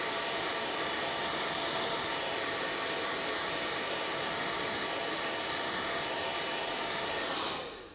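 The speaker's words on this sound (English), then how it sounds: "It must be quite hot, this hairdryer." A hair dryer blows steadily at close range over synthetic dread extensions, a loud continuous airy whoosh that cuts off abruptly near the end.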